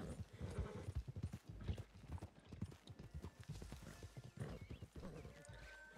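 Horse hooves clip-clop steadily along a road in Red Dead Redemption 2, a rhythmic run of close, fairly loud hoofbeats with a whinny mixed in.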